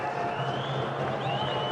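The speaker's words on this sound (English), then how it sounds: "The crowd are entertained." A cricket crowd cheers and applauds a well-played offside shot, a steady, dense wash of distant clapping and roaring across the stadium that holds at an even level throughout.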